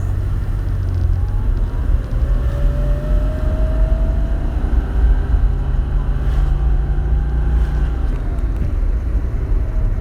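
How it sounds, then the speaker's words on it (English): A bone-stock air-cooled Porsche 964 Turbo engine running with its stock exhaust, a steady, close, loud rumble with a faint whine slowly rising in pitch, continuous throughout with no talk. "actually hear the air-cooled portion of it where you're supposed to hear it, as opposed to where you just hear nothing but exhaust in my car"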